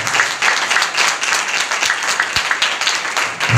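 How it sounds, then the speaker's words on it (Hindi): A church congregation claps for Jesus during a Hindi worship service, a loud, dense, continuous burst of many hands clapping together, close and sustained with no voices over it. "यीशु के लिए ताली बजा दीजिए।"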